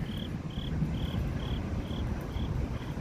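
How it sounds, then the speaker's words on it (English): Crickets chirp at sunrise along the Chicago lakefront, a steady high trill pulsing in even beats about twice a second over a constant low rumble of wind and ambient noise. "There, I hear crickets chirping."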